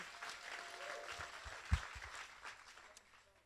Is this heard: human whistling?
no